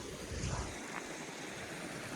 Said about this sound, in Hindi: पानी का शोर कितना बेहतरीन है भाई साहब